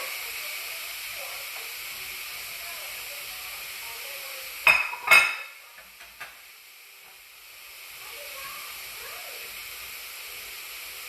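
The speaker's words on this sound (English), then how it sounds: "So it says to throw your steaks on. Nice. Love that sound." Steaks sizzling in a hot pan, a steady loud hiss with a couple of sharp clatters in the middle as the meat is handled, then the sizzle carrying on alone.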